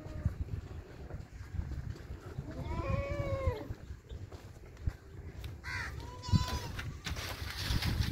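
Beetal goats bleat in a pen, with several wavering calls rising over a busy background of rustling, crow caws and other farm noise, while someone talks throughout.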